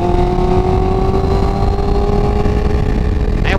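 A Honda CBR650R motorcycle cornering with the clutch pulled in, its engine note steady and sliding slowly downward as it coasts, loud and close over heavy wind rush.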